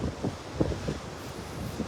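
Steady wind buffeting the microphone on a beach at Delnor-Wiggins on a morning walk, a continuous low rumble with gusty surges and no voices.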